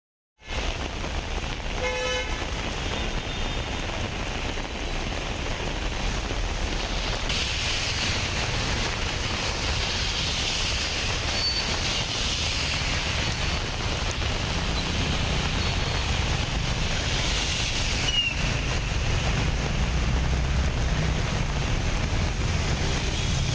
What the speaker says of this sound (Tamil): சென்னை மற்றும் புறநகர் பகுதியில் இருள் சூழ்ந்து சூறைக்காற்றுடன் கனமழை பெய்து வருகிறது